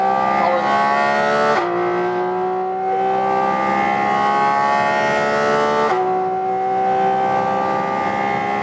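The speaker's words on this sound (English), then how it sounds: "this naturally aspirated engine has such a linear power curve" A Porsche 718 GT4 RS with a naturally aspirated engine revs hard and steadily climbs in pitch, with two sudden drops at gear changes before it rises again, a loud continuous wailing howl heard from inside the car.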